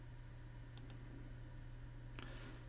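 Computer mouse clicks at a desk, two quick faint clicks close together, then one more click a moment later over a low steady hum.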